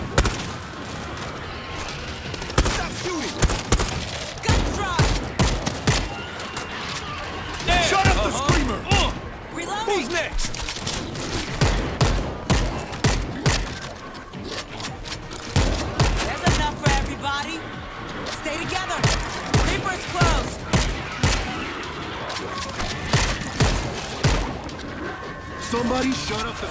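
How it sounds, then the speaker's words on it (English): Gunfire in the zombie shooter World War Z: dense, rapid bursts of shots and booms crowd the whole stretch at loud level, mixed with frequent players' voices. "Stop shooting!"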